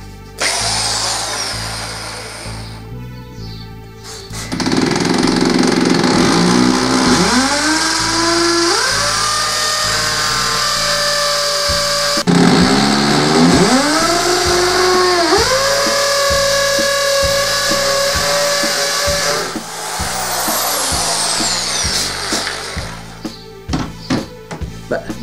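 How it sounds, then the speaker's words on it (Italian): A 550-watt electric drill, powered through an inverter, whines up to speed and bores into a wall in two separate bursts, each lasting several seconds, with quieter pauses and clatter between them. "trapano da 550 watt e adesso proviamo a fare due fori nel muro"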